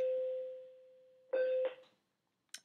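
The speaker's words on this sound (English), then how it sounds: "Sorry about the bell there." A single electronic bell tone sounds steadily and fades, then a second louder, brief ring cuts in and stops abruptly, with a short click at the end, heard indoors in a quiet room.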